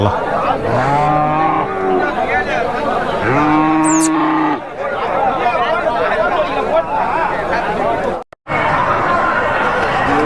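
Heifer calves mooing at a cattle market, long drawn-out lowing calls from close by, repeated several times over a busy background of chatter and crowd noise.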